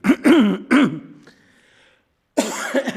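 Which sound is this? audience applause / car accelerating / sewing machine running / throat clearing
throat clearing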